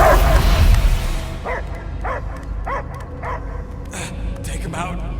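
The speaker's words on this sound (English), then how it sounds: "I hear only barking." A dog barks in Marvel's Guardians of the Galaxy game, a series of short, evenly spaced yaps and whimpers after a loud opening rumble, moderately near with speech-like sounds mixed in.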